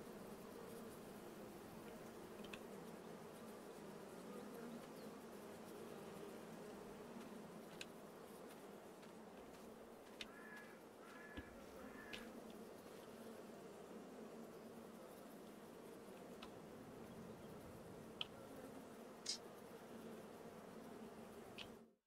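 Bees in the farming game Farming Simulator 22 drone in a steady, soft, continuous buzz, with a few faint clicks scattered over the long stretch and no voices.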